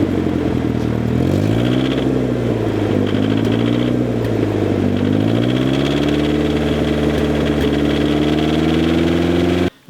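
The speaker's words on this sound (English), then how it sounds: "it's now got this ridiculous kind of marbles in a coffee can noise" A turbocharged Datsun engine idles steadily and loud with a rattling, marbles-in-a-coffee-can clatter over a low hum that rises and dips in pitch, running alone without talk before cutting off at the end.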